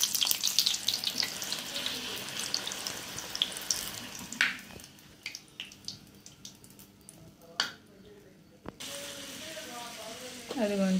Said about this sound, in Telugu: నూనె ఇలా బాగా పొగలొచ్చినాకనే పూరి అనేది వేయండి